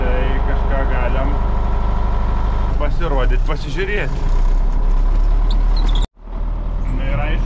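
A modern tractor engine idles steadily in deep winter snow, a low constant rumble running beneath someone talking close by, dropping out briefly for a moment before resuming.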